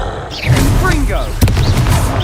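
Confringo fire spell from Hogwarts Legacy going off as one sharp, explosive burst about midway, set against steady game ambience and voices.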